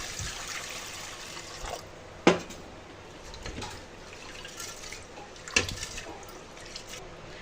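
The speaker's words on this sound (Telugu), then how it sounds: "ఫస్ట్ పప్పు తీసుకొని టూ త్రీ టైమ్స్ వాష్ చేసుకోవాలండి" Lentils (dal) being washed in water for a tamarind-leaf dal, a soft continuous swish and trickle of liquid with two sharper splashes or clinks, fairly quiet with no talking.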